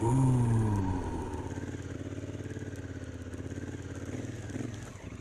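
A Honda Africa Twin DCT motorcycle climbs off-road over tree roots, its engine pulsing in a rapid chugging rhythm close by after a brief whining rise at the start.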